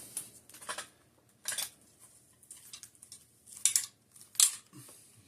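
A heavy leather championship belt with metal plates is folded over, giving several short metallic clinks and soft leather rustles in separate bursts against a quiet background.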